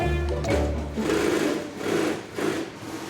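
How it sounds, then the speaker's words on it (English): Several sewing machines whir and rattle together in a steady, busy clatter, with the motor noise swelling and easing in waves for a few seconds. "that's the sound of lots of sewing machines all working at the same time."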